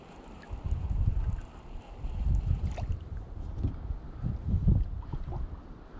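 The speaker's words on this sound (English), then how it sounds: "Wind blowing me all over the place." Wind gusting around a kayak on open water during fishing, with low rumbling buffets rising and falling in waves across the whole stretch, loud and close on the microphone.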